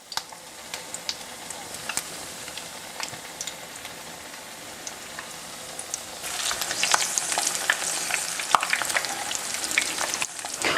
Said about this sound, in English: We're frying these till they're golden brown.